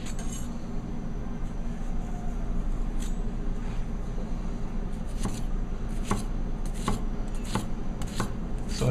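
A ZHEN Japanese VG-10 three-layer forged steel gyuto chef knife slices through a shallot on a cutting board, a series of crisp knife taps growing quicker toward the end over a steady background hum.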